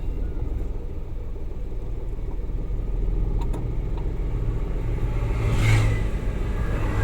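A car on a driving lesson runs with a low, steady engine rumble inside the cabin, rising slightly near the end, with faint clicks and no clear talking.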